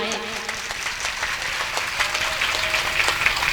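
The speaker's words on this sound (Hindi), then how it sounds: "तो एक बार इनके लिए सभी भक्तियां जोरदार तालियां हो जाए।" Audience at a Hindu religious katha gathering in Mohammadabad, Farrukhabad breaks into steady applause, a dense continuous patter of many hands that stays moderately loud throughout.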